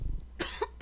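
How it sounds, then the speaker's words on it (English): A sick person coughs in two or three harsh bursts at close range, with a pause between the first loud cough and a final shorter one. "think I'm about to cough here."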